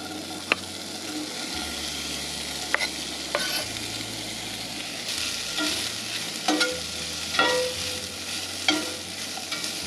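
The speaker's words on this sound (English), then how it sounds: "We are letting the reindeer sausage brown" Reindeer sausage browning in a pan with onions and butter at a camp stove, a steady close sizzle broken by repeated scrapes and clacks of a stirring utensil.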